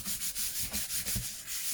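Steady, rhythmic rubbing strokes over paper panels on an altered file folder, clearing glue from the edges, a soft repeated brushing scrape at close range with no talking.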